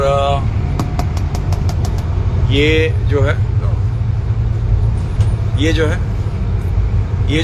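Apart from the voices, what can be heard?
car being driven, heard from inside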